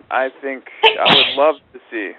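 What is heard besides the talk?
sneeze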